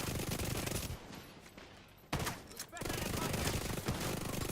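Rapid automatic gunfire in the shooter game Division 2, dense continuous bursts of loud shots with a brief lull and a sharp blast before firing resumes, filling the whole stretch.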